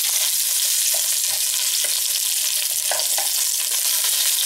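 Blended spice paste for opor ayam sizzles and fries in a pan, a loud continuous crackle with intermittent scraping stirs, no talking.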